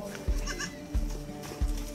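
Goats on a farm in Botswana bleat nearby in short, repeated calls, with a human voice mixed in among the animal sounds.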